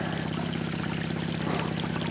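Water flows steadily over a Gold Hog Razorback sluice mat's riffles, roughly a quarter to half inch deep, with a low motor or pump droning underneath, a continuous even wash with no talk.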